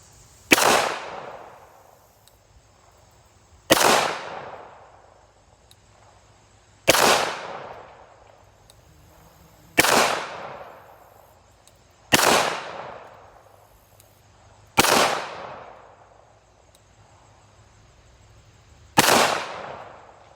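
Kimber Eclipse Target II pistol fired at steel targets outdoors, seven sharp loud shots spaced a few seconds apart, each with a ringing, decaying echo.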